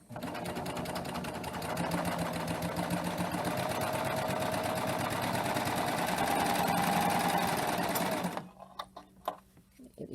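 Serger running a cover stitch to attach binding on a quilt, a fast steady mechanical whir of needle and looper close by for about eight seconds, then stopping, with soft handling sounds and a voice speaking faintly.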